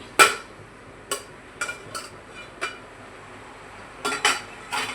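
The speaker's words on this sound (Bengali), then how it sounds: "চলো ঢাকনাটা খুলে দেখা যাক কি পরিস্থিতি।" A metal lid is lifted off a cooking pot of simmering ash gourd, giving a few sharp, close metallic clinks and clanks spread out over a quiet background.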